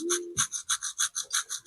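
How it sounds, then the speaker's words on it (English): Rough red sandpaper rubbed back and forth by hand over a motorcycle part during a rust-and-paint build, a steady rhythmic rasp of about eight close strokes with no talk. "Sand there, sand there, sand there. Red sandpaper. Rough."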